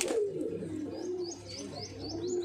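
Madrasi pigeons in a Kolkata loft give a low, drawn-out coo close by, with faint chirps and light rustling behind it.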